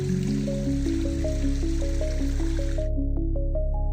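Glacier meltwater in the Peruvian Andes drips steadily into a pool, each drop a bright, pitched plink in a quick irregular rhythm, close and clear with a faint background hiss.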